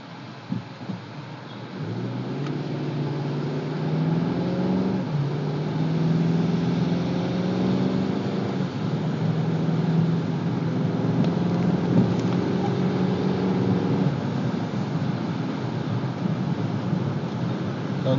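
A car driving on a freeway on a rainy day, heard from inside the cabin as a steady loud roar of tyres on wet pavement with rain noise and low engine hum throughout.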